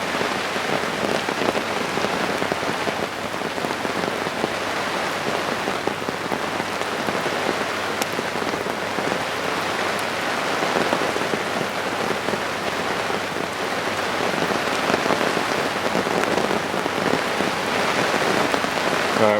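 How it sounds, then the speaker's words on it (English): Heavy rain pours down at a winter carp-fishing lake, drumming steadily and densely on surfaces nearby for the whole stretch with no break. "It's now probably the heaviest rain it's been since I've been here."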